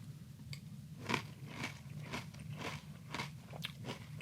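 Close, steady crunching of honey granola cereal eaten with orange juice, a chewing rhythm of roughly two bites per second with no talking.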